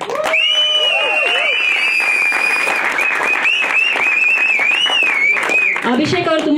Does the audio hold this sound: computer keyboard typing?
no